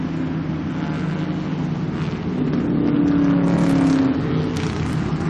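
Vintage race cars roar around the track at Lime Rock in a steady, loud engine drone that swells slightly midway, with a sustained tonal whine layered over the rumble and no talking.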